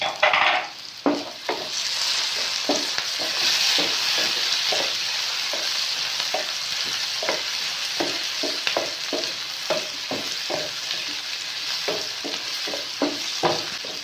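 Chopped tomatoes and green chilies fry in a pan for aloo anday, a steady sizzle running under repeated spatula strokes and scrapes against the pan, close and fairly loud with no talking.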